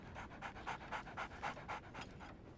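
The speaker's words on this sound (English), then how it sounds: "Oh, there's a dog." A dog in the video game Sherlock Holmes The Awakened pants steadily, about nine rhythmic breaths close to the listener with a low background hum beneath.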